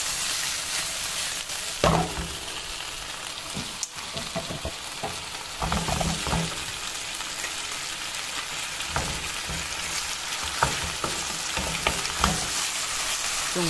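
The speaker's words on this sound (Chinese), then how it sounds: "边翻炒边淋一点点水淀粉" Scallops with scallion pieces stir-fried in a pan as a little starch slurry is drizzled in, producing a constant sizzle broken by repeated scraping stirs and spatula clanks, close and moderately loud, no speech.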